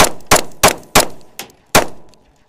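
An SCCY CPX-2 pistol fires six sharp, loud shots in quick succession over about two seconds, each crack followed by a short ringing decay, with slightly uneven spacing and no talking.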